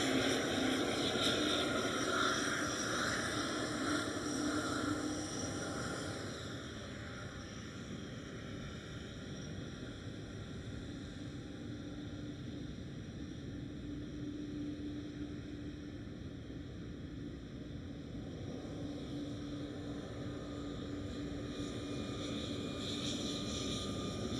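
Airliner engines roar at Schiphol airport in Amsterdam, a Vueling jet with a special sticker, a steady broad rumble that eases slightly after the first few seconds and holds at a distance.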